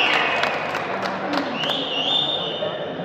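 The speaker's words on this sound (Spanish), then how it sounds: "Ahí está el público aplaudiendo." An audience applauds at a table football match between Golden and Papayas and Abraham and Vendequesos, light clapping mixed with crowd noise and a tonal whine beneath talk.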